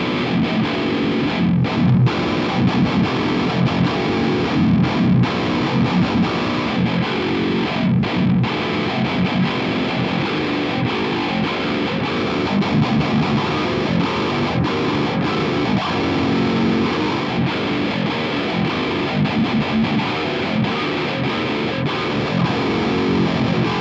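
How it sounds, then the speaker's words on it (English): A distorted electric guitar plays a continuous riff with effects, dense and loud throughout, as captured by a FiFine Tank3 and a Shure SM57 microphone. "So I'm going to play you a little guitar clip."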